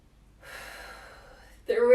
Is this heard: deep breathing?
yes